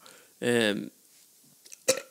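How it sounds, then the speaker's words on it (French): A strange, drawn-out cartoon burp from a Simpsons episode with Homer, a short voiced croak of about a third of a second, followed by a brief second gulp-like sound, close and clear against quiet. "C'est un genre de rot, mais weird."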